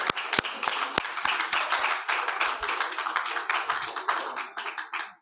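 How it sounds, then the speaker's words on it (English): Audience applause for a domestic violence awareness panel, a dense burst of clapping with several sharp, close individual claps at the start, then a full, even patter that tapers off at the end. "let's give them another warm round of applause."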